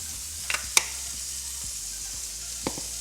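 Pork chops sear in a hot pan with a steady, soft sizzle throughout, broken by a few light clicks and utensil taps.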